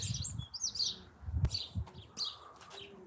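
Tree sparrows chirp in scattered bursts outdoors, high and fairly close, with a low rumble of handling or wind underneath and short gaps between the calls.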